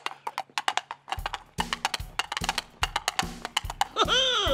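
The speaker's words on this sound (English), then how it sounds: "Mr. Tumble, there's a horse behind you." Regular hollow clip-clop hoofbeats of a horse at a stable, rhythmic and fairly close, broken by short gaps, with a rising whistling tone near the end.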